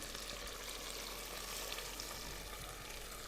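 Vegetable stock pours into a hot pan of onions and whole tomatoes, giving a steady, loud, broadband sizzle and bubbling hiss that continues evenly throughout.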